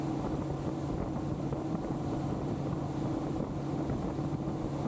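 Previous-generation Honda Goldwing motorcycle on the road: a steady low engine drone mixed with heavy rushing wind noise across the microphone, continuous and even, with no talk.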